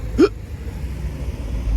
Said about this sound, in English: Oh, it's a hiccup.